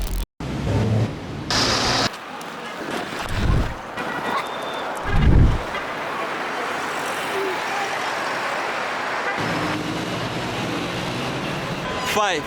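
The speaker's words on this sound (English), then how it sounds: "Right now we are on red lights and you can see the motorbikes crossing the streets as they have no regard for the law." Street traffic at red lights in Accra, Ghana, with motorbikes crossing: a continuous roadway rumble with passing engines swelling and fading, a few louder close passes and brief interruptions.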